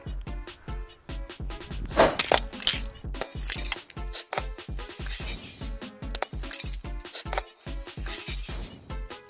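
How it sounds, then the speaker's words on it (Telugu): A glass bottle smashes and shatters in a bright burst of breaking glass, set among a steady run of sharp rhythmic thumps and clinks that continue throughout, loud and close with no talk. "లాస్ట్ ఛాన్స్ సీసా వలగాలి ఇప్పుడు."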